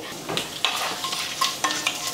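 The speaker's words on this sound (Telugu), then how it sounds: "ఇంకా ఆయిల్ వేడెక్కిన తర్వాత ఆవాలు, శనగపప్పు, మినపప్పు, జీలకర్ర ఇట్లా అన్నీ కూడా పోపు దినుసులు అన్నీ వేసేసుకోవాలండి" Mustard seeds, chana dal, urad dal and cumin crackle and sizzle in hot oil with a steady frying hiss, punctuated by a few sharp pops and scraping stirs, close up.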